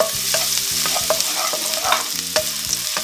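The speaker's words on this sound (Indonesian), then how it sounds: "setelah minyaknya panas, kita masukin bawang putih" Garlic fries in hot oil, giving a continuous bright sizzle close to the microphone, broken by repeated rhythmic scraping strokes as it is stirred in the pan, with no voices.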